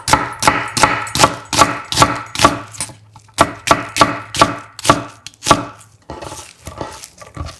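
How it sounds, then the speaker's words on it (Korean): An onion is sliced into thick strips with a knife on a cutting board, giving a quick, steady run of crisp chopping thuds that pause briefly midway and then resume. "양파 1개는 살짝 굵게 채 썰어"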